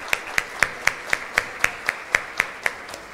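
Clapping for Gustavo at the Prêmio Gente Rara 2021 awards event: about a dozen crisp, evenly spaced claps in a steady rhythm of roughly four per second, close and clear above low background noise.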